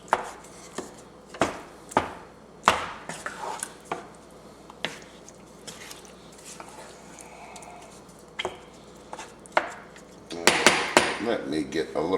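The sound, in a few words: breaking up tomatoes in a pot for marinara sauce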